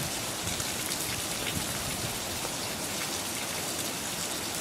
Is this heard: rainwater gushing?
yes